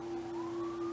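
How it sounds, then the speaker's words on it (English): A police or ambulance siren from a nearby highway sounds as a steady, sustained wail carried from a distance, with a second tone rising slightly behind it. "Camera's probably picking up the police sirens or ambulance or whatever it is"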